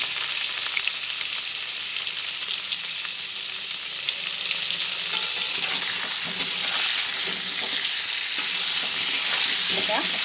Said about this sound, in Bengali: হলুদ আর নুন দিয়ে এই এটা ভেজে নিচ্ছি